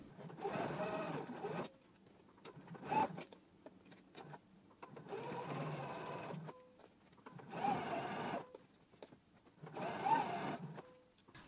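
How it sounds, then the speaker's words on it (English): A sewing machine stitches in the ditch on a waistband in steady bursts of rapid stitching, five runs separated by short pauses, close and fairly quiet. "we can go to the sewing machine and stitch in the ditch"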